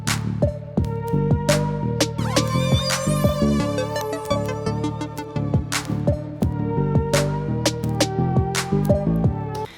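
Piano-like music run through the iZotope Vinyl plugin's warp setting, with the pitch audibly wavering and bending as on a worn record; steady, full and loud throughout, with no voices.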